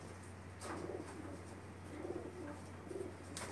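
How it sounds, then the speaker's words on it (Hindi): A pigeon, shown as a pet bird among a keeper's flock, gives soft, low repeated coos at a distance, faint against a steady background hum. "एक और कबूतर दिखा रहे हैं अबू बकर भाई माशाल्लाह।"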